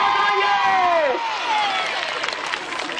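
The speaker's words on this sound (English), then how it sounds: "Biggest cheer of the day." At an airshow, a crowd with many children cheers and shouts loudly in one sustained roar, with excited voices rising and falling over the noise.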